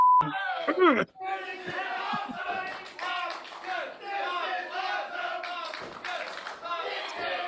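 A wrestling crowd at an independent SHWA show roars and chants in a loud, sustained mass of voices after a sharp opening shout, with rhythmic chanting peaks and occasional claps throughout.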